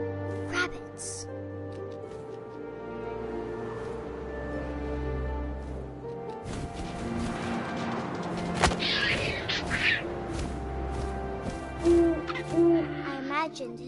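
An owl hoots in What Remains of Edith Finch, a few low calls set against a droning, atmospheric game score with deep thuds, and a voice narrates over it.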